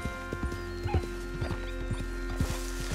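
Horse hooves clip-clop at a steady walking rhythm in Red Dead Redemption 2, mid-distance and moderately loud, over an ambient outdoor game soundscape.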